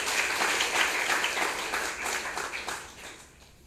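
An audience at a social economy policy forum gives a short burst of applause, with many hands clapping loudly at first and then thinning out and fading after a few seconds.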